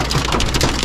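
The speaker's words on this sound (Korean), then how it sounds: "왜 이렇게 비가 갑자기 내리는지 모르겠는데 천둥 번개 지금 뭐야, 우박인데?" Heavy rain hammering down hard and steady during a sudden storm in Australia, dense and close, with a rattling edge as it turns to hail and thunder mixed in the wash.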